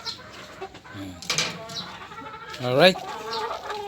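Backyard chickens clucking near a flock of laying hens, a few short clucks and calls rising over a steady outdoor background while someone speaks briefly.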